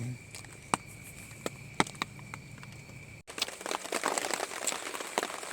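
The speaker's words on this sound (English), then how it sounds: "I hear the wind coming in a little bit harder here. It's coming with the rain." Wind and rain gust around a hammock outdoors, a soft crinkly patter with scattered sharp drops hitting the fabric, then a louder rush of wind-driven rain building up.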